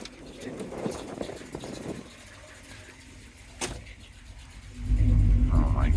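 A 1976 Pontiac Trans Am with a 428 engine and Turbo 400 transmission rumbles steadily from inside the cabin during a ride, then swells into a louder, deeper engine roar near the end.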